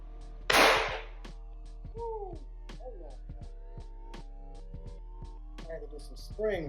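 A Glock 19C pistol fitted with a Timney Alpha trigger fires one loud, sharp shot close by, and someone talks over the quiet that follows.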